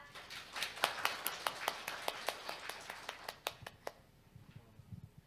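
Applause at a data trends conference: sparse, slightly irregular individual claps, fairly faint, thinning out after about four seconds into quiet room tone.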